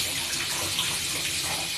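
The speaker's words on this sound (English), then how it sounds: "just making sure to totally soak the hair so that it's completely drenched in water" Shower water pouring steadily over long hair as it gets fully soaked, a close, even hiss of spray that runs unbroken for under two seconds.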